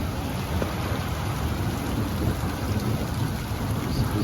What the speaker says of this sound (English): we just got 30 minutes of heavy rain